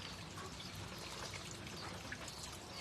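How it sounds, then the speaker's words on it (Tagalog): Steady rain pours down outdoors, a dense, continuous hiss and patter with faint trickling, close and even throughout with no talking. "Naulan dito sa amin."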